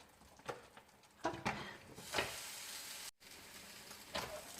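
Beef bourguignon simmers on an All-Clad XL grill, giving a low, steady sizzle with soft intermittent pops and crackles, faint and close, with a brief dropout partway through.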